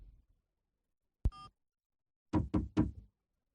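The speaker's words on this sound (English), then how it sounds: "I'm going to go and knock on the door." Knocking on a wooden door: one sharp knock with a brief rattle, a pause, then three quick firm raps close by in a quiet room.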